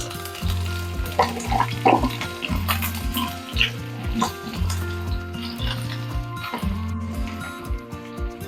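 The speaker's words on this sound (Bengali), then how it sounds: "ফোড়নের গন্ধ ছেড়ে গেছে দিয়ে দিচ্ছি কুচো করে রাখা পেঁয়াজ" Chopped onion tossed into hot oil seasoned with crushed cardamom sizzles and crackles loudly and up close, with repeated rhythmic stirring scrapes against the pan throughout.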